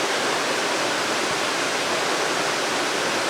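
High creek water in South Dakota rushes in a loud, steady, broadband roar close to the listener, running unbroken with no voices.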